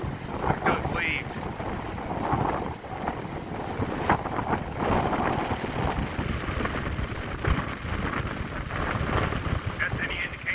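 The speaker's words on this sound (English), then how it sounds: "If that's any indication of how windy it is out here." Strong gusty wind buffets a microphone outdoors on a hiking trail near a natural bridge, a loud continuous roaring rumble with surging gusts and rustling leaves, and a voice briefly audible beneath it.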